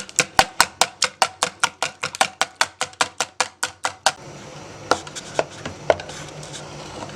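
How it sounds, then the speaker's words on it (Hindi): Eggs beaten by hand in an open bowl for wedding-style halwa, a fast even run of sharp taps for about four seconds, then a few slower, scattered strokes. "अब आप किसी खुले बर्तन में अंडे डालें और उनको अच्छी तरह से फेंटें।"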